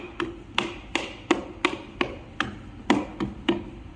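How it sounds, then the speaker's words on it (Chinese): A hammer strikes a scooter tire, driving it down onto a wheel hub on a simple tire assembling machine, giving about ten sharp, evenly spaced metallic blows at roughly two per second, close and clear with no talk. "然后用锤子开始往下砸。"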